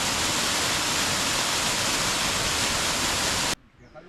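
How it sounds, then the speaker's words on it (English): Minyon Falls in Nightcap National Park pours in a steady, dense broadband roar of falling water, loud and unbroken for about three and a half seconds before cutting off abruptly. "Come into a hidden waterfall."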